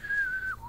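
A single sustained human whistle imitating a Western movie theme, one clear near note held for about half a second before it slides down and fades, heard alone.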